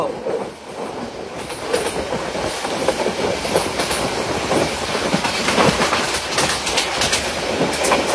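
Titas commuter train running between Daulatkandi and Bhairab Bazar, heard from inside as a steady, loud rumble of wheels on track with rhythmic clickety-clack throughout.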